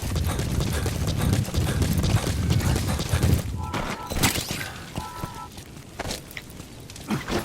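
Horse hooves clip-clop in the video game Metal Gear Solid V, a steady run of hoofbeats over rustling game ambience that thins out midway, leaving quieter sparse clatter and brief tones.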